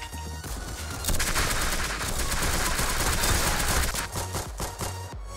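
Rapid, sustained M60 machine gun fire bursts loudly in a video game, with sharp repeated shots running almost continuously and a few brief gaps near the end.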